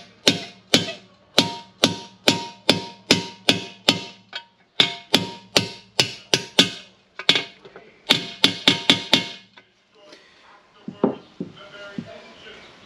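Steady hammer blows drive a bearing home with a 76 mm seating tool while rebuilding a Borg Warner 1356 transfer case: about twenty sharp metallic strikes in an even rhythm, close and loud, then a few scattered knocks and handling clatter.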